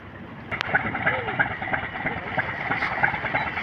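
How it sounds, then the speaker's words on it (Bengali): A passenger launch, the MV Tasrif 1, runs its engine on one side to straighten the vessel before leaving Betua, Charfassion, for Dhaka. A steady, close engine drone carries on throughout, with voices talking over it. "এক পাশে ইঞ্জিন চালাচ্ছে মানে লঞ্চটিকে এখন সোজা করবে"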